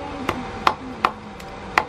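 A knife chops pork on a board in an outdoor village pig-butchering gathering, five sharp, evenly spaced thuds sounding close and fairly loud, with a faint hum between strikes and no talk.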